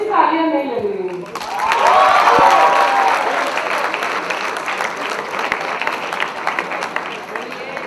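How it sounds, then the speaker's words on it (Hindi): Audience applause at a university passing out ceremony, a broad wash of clapping that swells after a brief voice, stays loud for several seconds, then thins out gradually. "गोल्ड जैसी तालियां नहीं लग रही हैं।"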